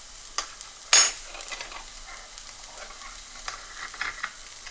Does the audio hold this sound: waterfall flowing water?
no